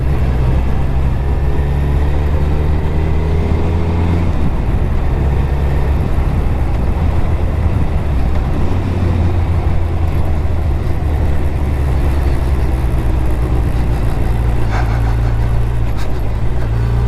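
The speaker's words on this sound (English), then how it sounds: "Ooh, engine wanted to go then." Motorcycle engine running steadily on a summer evening ride, a loud continuous low rumble with sustained drone and faint wind noise, no talking over it.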